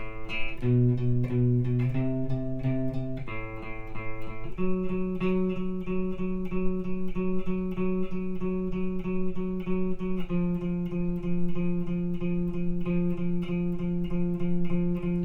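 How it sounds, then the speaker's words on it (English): The bass line of a song played on guitar: low, sustained distorted notes shifting pitch every few seconds in a slow, repeating pattern. "that bass line sounds like this"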